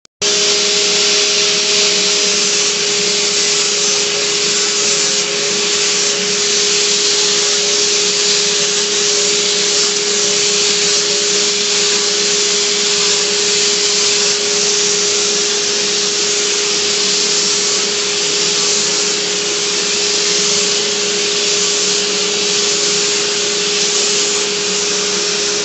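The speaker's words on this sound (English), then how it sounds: "I will go over with my disc sander orbital and get a little more" Orbital disc sander working over a wavy wooden flag, a loud, continuous motor whine with a steady pitched hum and a grainy abrasive hiss that never lets up.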